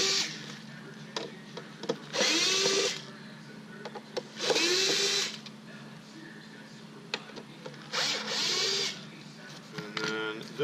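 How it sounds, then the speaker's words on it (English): A power drill backs screws out of aftermarket taillights in three or four whirring bursts of about a second each, with quiet handling clicks between them. "Just gonna remove all these screws."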